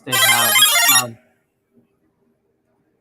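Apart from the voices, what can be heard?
mobile phone ringtone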